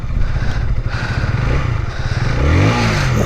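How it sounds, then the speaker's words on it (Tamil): A KTM Duke 160 motorcycle engine starts and settles into a steady, fairly loud idle close by with mechanical clatter, and no voices are heard. "வண்டியை இப்போ ஸ்டார்ட் பண்ணிடலாம்."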